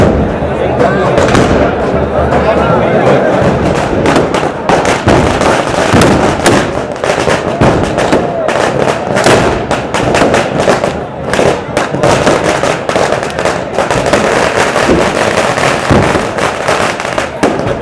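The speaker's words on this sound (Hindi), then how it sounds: "बंदूक का फायर होगा, देखिए।" Dense, continuous crackle and booming of gunfire at the Barood ki Holi festival in Menar, loud overlapping shots and blasts for the whole span with a crowd clamouring and voices underneath.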